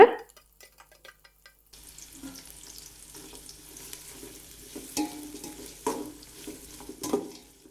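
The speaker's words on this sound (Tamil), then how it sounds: "இந்த மாதிரி நல்லா கோல்டன் ப்ரௌன் ஆகிற வரைக்கும் நல்லா பொறுமையாக வறுத்தெடுக்கணும்" Sliced large onions fry in a hot pan toward golden brown with a steady close-up sizzle, broken by scraping and stirring clatter, and nobody speaks.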